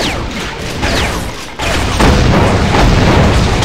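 Weapons firing in Doom with the Brutal mod, a dense, loud barrage of booming shots and blasts packed closely together with barely a pause.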